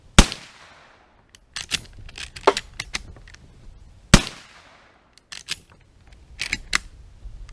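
Shots from a 30-30 Winchester Trapper lever-action rifle at an outdoor range: two sharp, loud reports with ringing decay about four seconds apart, separated by lighter metallic clicks and clatter of the action being cycled.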